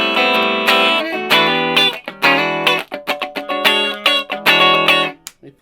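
Electric guitar through a tiny Lekato Pogolab mini amp, loud and distorted with strummed chords and quick picked notes, chopped into short bursts that cut off abruptly, with no talking.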